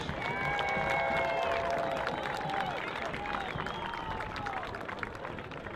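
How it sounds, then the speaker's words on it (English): Outdoors at a high school football game between River Valley and Richland Center, spectators in the stands applaud and cheer for the football players and cheerleaders. Steady crowd clapping mixes with raised voices and whoops, sounding moderately distant throughout. "Give a round of applause for our football players and cheerleaders"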